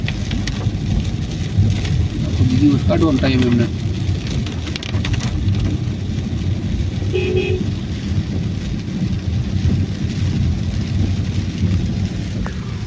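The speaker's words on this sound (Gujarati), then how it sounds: "વરસાદ વરસાદ જમાવટ લીધો આ ત્રણ ચાર દિવસ થયા એક ધારો" Heavy monsoon rain in Surat, a constant dense wash of rainfall with a low rumble throughout, while people talk briefly over it.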